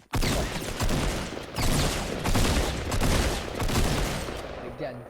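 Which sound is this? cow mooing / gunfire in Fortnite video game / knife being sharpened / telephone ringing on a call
gunfire in Fortnite video game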